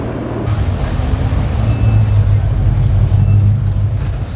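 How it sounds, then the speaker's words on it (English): Car with an engine doing a second-gear burnout, a loud, steady, low engine roar close by that holds through the clip with little change in pitch. "Second gear burnout good, but still no traction, and then it bogged."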